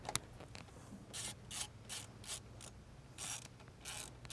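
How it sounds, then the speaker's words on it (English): Ratchet wrench tightening an M8 bolt on top of the turbocharger of a 2009-2017 Audi MLB-platform car: a quiet series of short clicking ratchet bursts in an uneven rhythm, with no speech. "So now I'm going to bolt the M8 on top of the turbocharger."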